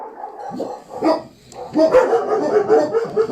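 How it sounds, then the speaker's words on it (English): Several dogs barking on a farm, a string of repeated barks of moderate loudness at some distance, with short pauses and overlapping yaps. "Sorry, that's my dogs."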